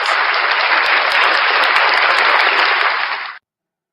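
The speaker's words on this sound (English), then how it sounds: "round of applause for the one and only Unclean Hands" Loud, dense audience applause for a performer, a continuous roar of many hands clapping close up that cuts off abruptly at the end.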